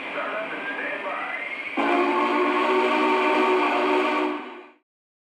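A Lionel Union Pacific 4014 model steam locomotive starting up, giving a steady hiss and rumble that steps up sharply into a louder, humming roar with tonal lines, holds for a few seconds, then cuts off abruptly.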